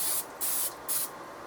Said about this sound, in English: Got a bit of spray there